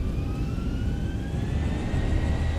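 Boeing 737-800 jet engines in the X-Plane 11 flight simulator spool at takeoff power, a steady broadband roar with a rising whine, alone and without talk.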